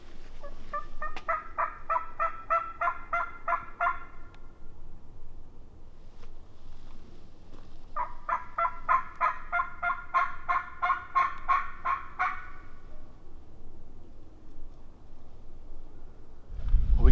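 Two long rattling gobble sequences from a wild turkey during spring hunting in Alabama, each several seconds of rapid, repeated calls at moderate distance, separated by a quiet gap over faint outdoor background.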